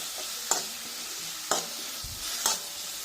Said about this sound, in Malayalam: ഇപ്പോഴേ ഇത് നന്നായി ഒന്ന് വഴന്ന് വരട്ടെ